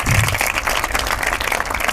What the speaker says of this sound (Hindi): एक बार जोरदार तालियां हरियाणा की बेटी के लिए